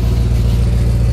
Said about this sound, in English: When you hear that rumbling, sounds like a gas burner.